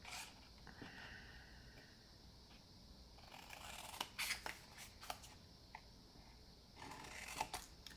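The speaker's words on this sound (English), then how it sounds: "And I'm going to cut that section out." Scissors snip a section out of a holiday gift box, with soft, quiet, close cuts and rustles that grow into a few sharper crunching snips.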